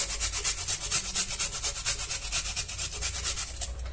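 Fresh coconut grated by hand straight into a steamer while preparing pearl millet puttu, giving a steady run of rhythmic scraping strokes, close and fairly loud, with no talking.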